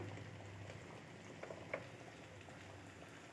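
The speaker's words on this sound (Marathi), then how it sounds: "पटपट पटपट पटपट अशी उकळी फुटायला." A curry boils in a pot over a gas flame with soft, faint bubbling and a few small pops.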